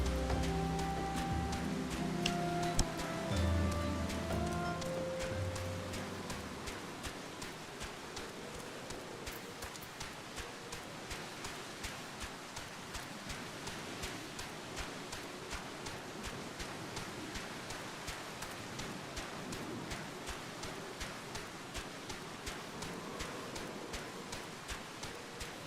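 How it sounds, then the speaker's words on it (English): Rain pours steadily over a desert camp, Camp Drybone, in Final Fantasy XIV, a soft continuous patter with faint droplet ticks, and tonal game music fades out during the first few seconds. "I guess in a desert like this, you should be glad for the rain."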